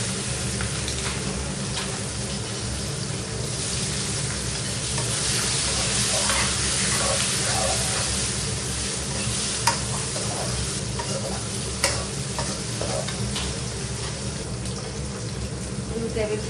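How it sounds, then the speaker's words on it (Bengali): Onions frying with steady, dense sizzling in a pan while a spoon stirs now and then, for a Bengali chicken curry; loud and continuous, with a few sharper scrapes. "লাল লাল করে আমি পেঁয়াজগুলো ভেজে নিলাম"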